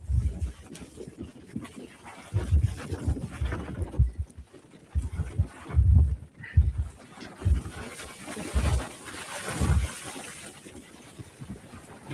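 Gusty wind buffets the microphone in low, uneven rumbling bursts, with no talking.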